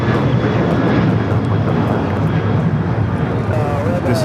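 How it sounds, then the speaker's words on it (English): An American Airlines airliner bound for Dallas Fort Worth roars loud and steady with engine noise that fills the whole stretch, while someone talks over it. "This is American Airlines Flight 1669 going back to Dallas, Fort Worth."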